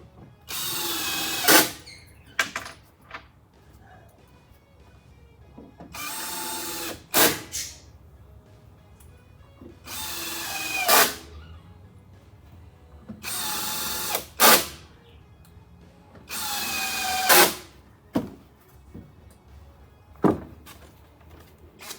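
Power drill driving screws into deck boards during a deck repair, five loud whirring bursts of a few seconds each, close by, each ending in a sharp clunk and separated by quiet pauses.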